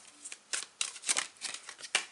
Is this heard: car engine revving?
no